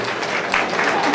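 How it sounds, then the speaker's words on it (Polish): Brief burst of audience applause at a late-evening KrakSpot panel discussion event, a steady, dense clatter of many hands close by, lasting about a second. "może głośniejsze brawa"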